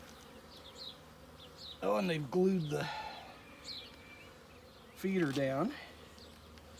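Honeybees buzz around an open hive during a four-week inspection, a steady close drone that carries on beneath a person talking.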